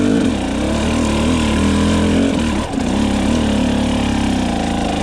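Dirt bike engine lugging up a steep hill without the clutch, a loud, close, low throbbing drone that holds steady with a slight dip near the middle.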